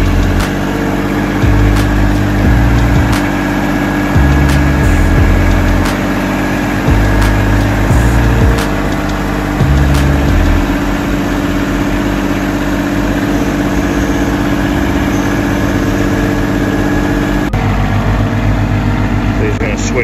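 A close tractor engine idles loudly and steadily through the whole stretch, with a chugging rhythm in the first half and people speaking intermittently over it.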